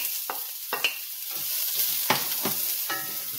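Onions and peppers fry in hot olive oil in a cast iron pot, a steady close sizzle broken by a handful of sharp stirring scrapes spaced through the clip, with no talking.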